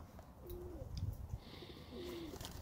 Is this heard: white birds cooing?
yes